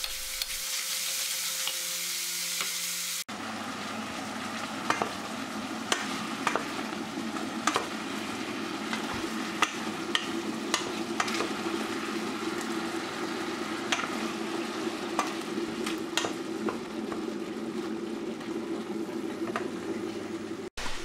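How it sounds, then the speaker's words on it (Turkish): Diced beef sizzles and fries in melted butter in a pan, a steady crackling hiss with occasional stirring clicks, close and continuous without speech. "Tereyağı eridikten sonra dana kuşbaşımızı ilave edelim ve yağda suyunu çekene kadar kavuralım."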